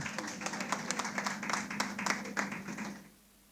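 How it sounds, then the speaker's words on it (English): A round of applause for professionals at a police press briefing in Montego Bay, moderate clapping with distinct individual claps over a steady hum, fading out near the end. "Please give them a round of applause."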